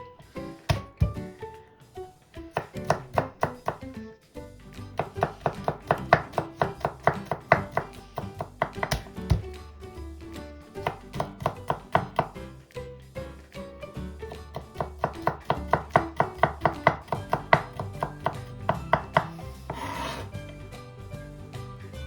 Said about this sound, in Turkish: ardından 3 diş sarımsağımızı da ince ince kıyıyoruz.